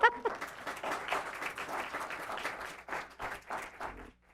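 Audience at a city council meeting applauding the City of Paramount's local youth football champions: sustained, dense clapping from a crowd indoors, steady throughout and tapering off at the end.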